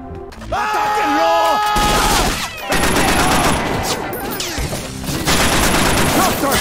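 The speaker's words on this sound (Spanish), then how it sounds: "Va a tocar liarse a tiros aquí" Dense, continuous automatic gunfire crackles through a shootout in Scarface: The World Is Yours, loud and sustained with brief pauses, layered with a voice and other game sounds.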